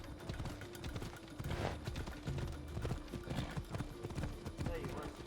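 Horse hooves galloping while riding in Assassin's Creed Odyssey, a rapid, steady clip-clop that runs the whole time amid busy game sounds.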